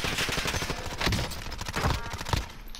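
Rapid gunfire in a first-person shooter video game, with dense, sustained bursts of shots close by that run steadily throughout without pause.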